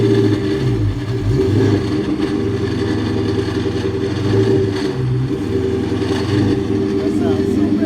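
A 2003-2004 Ford Mustang Cobra engine with a failing water pump runs steadily at close range, a rough droning idle with uneven lower pulsing and some faint whine throughout.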